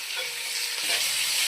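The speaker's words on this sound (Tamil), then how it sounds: "வெங்காயத்தை நல்லா வதக்கிக்கலாம்." Onions and cauliflower fry in a pan with little oil, giving a soft, continuous sizzle with faint stirring scrapes, heard alone and fairly quiet.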